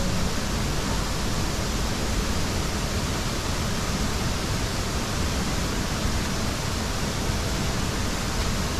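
A waterfall on a Hong Kong mountain stream gorge roars with a steady, loud, unbroken rush of falling water, with no voices over it.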